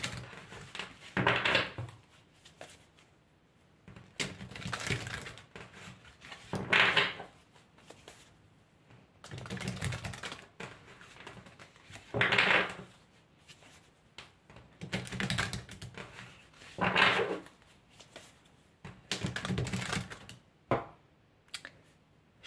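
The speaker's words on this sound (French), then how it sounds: "Je vais tirer les cartes de tarot." Tarot cards are shuffled and drawn in repeated bursts of papery riffling and soft slaps, each lasting a second or two and separated by quiet pauses, close by with no voices.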